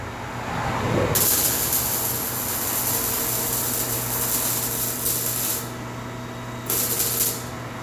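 Welding on an Acura exhaust pipe gives off a loud, continuous spraying hiss and crackle up close, with a couple of short pauses where the arc stops and restarts.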